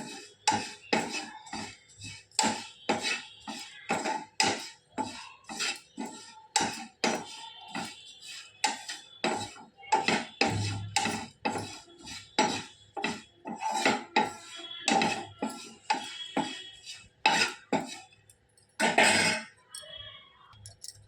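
Flattened rice (aval) dry roasting in a pan, stirred with a metal spatula that scrapes and clinks against the pan in a steady run of sharp, close taps.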